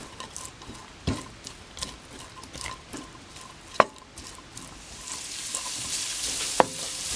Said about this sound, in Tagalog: Kailangan maging crispy itong bacon natin. So i-fry natin siya hanggang sa maging crispy.